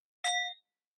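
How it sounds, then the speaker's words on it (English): A meditation bell is struck once, giving a clear bright ding with a short ringing tail that fades within about half a second, alone in silence. "Ringing the bell to invite an amplification of what's coming up for us in this moment."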